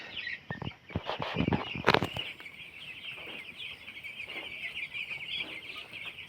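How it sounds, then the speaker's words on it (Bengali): Many broiler chickens on a small 500-bird farm cluck and chirp together in a steady, busy chorus, with a few louder bumps and rustles near the start. "পাঁচশো ব্রয়লার মুরগির খামার ছোট্ট একটা খামার আমার"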